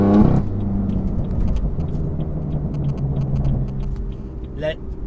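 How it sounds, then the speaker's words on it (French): A BMW M4 Competition with an Akrapovic exhaust idles with a deep, throaty exhaust rumble, a brief louder blip at the start, and a voice talking over it. "L'échappement Akrapovic va vraiment très très bien à cette voiture"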